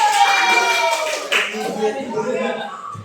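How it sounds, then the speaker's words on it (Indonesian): Steady clapping from a classroom group, loud and continuous, with children's voices chattering over it throughout. "Tepuk tangan dulu."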